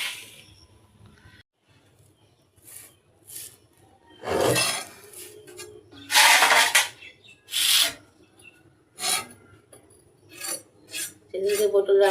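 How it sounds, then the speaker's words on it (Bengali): Knife slicing pointed gourd into strips for frying, irregular scraping and chopping strokes close by, some sharp and loud, with quiet pauses and light clinks between them. "এদিকে যে পটলের ফালি ভাজার জন্য আমি কাটা শুরু করে দিছি"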